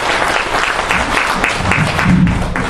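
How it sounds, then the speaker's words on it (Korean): Audience at an academic conference claps to welcome a speaker, a loud, close burst of many hands with distinct individual claps showing through, sustained for the whole short stretch. "박수로 환영해 주십시오."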